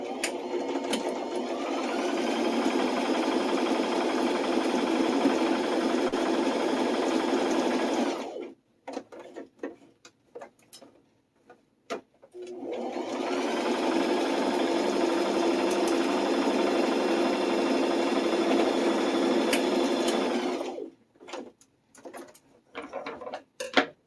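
A sewing machine stitches pieces of a bunny backpack in two long steady runs of rapid mechanical whirring, close and loud, each stopping abruptly with a short quiet pause between and a few faint clicks of handling.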